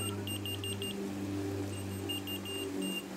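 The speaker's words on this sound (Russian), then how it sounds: "Вон она, твоя пикалка. Пик-пик-пик." A small electronic device beeps in quick bursts, one run of about six rapid high pips and then a shorter run a moment later, fairly faint over a steady low hum.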